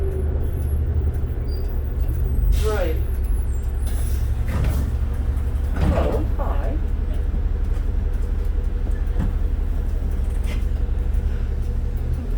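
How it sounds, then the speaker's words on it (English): Cummins diesel engine of a 2005 New Flyer D40LF transit bus, a steady low rumble heard from inside during a ride, with air hiss and rattles over it and people chatting. "I love that Cummins diesel sound."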